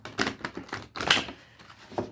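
Cards being shuffled in a quick run of crisp, riffling bursts, close and fairly loud, with no talking.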